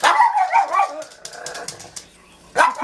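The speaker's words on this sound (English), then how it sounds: "What you barking at?" A dog barking outdoors during the 2014 snowstorm in Rochester, New York: a few loud, close yelping barks with a short gap between them, then another bark at the end.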